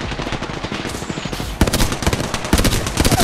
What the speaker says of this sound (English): there's another team shooting at me